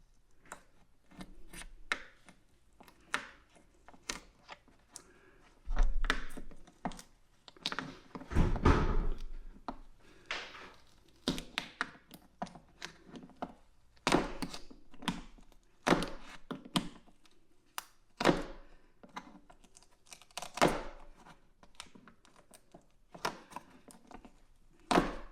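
A stock foam mat is pulled and peeled off the tray of a Kawasaki SXR 1500 stand-up jet ski, with irregular close tearing rips, scrapes and dull thunks coming in bursts, some longer rasping pulls in between, and no talking.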